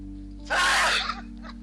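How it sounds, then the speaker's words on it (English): A single loud, breathy sneeze bursts out after a short pause, close and abrupt, then fades quickly. "I'm going to sneeze."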